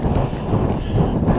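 Wind rushes past a cyclist riding on a wintry road, a loud, low buffeting rumble that surges and gusts unevenly across the moment, with no voices.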